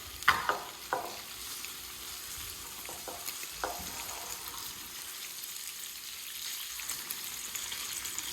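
Bacon and sausage fry in a pan with a steady, quiet sizzle, broken early on by a few clinks and scrapes of a fork turning the meat.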